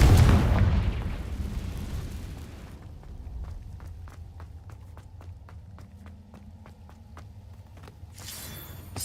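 A Confringo blasting spell explodes in Hogwarts Legacy with a loud, deep burst at the start. It fades into quieter rhythmic footsteps, and a second rushing burst comes near the end.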